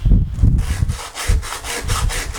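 Sandpaper wrapped around a sponge rubs back and forth over the wooden headstock of an acoustic guitar, about a dozen quick rasping strokes in an even rhythm, close and clear with no talking.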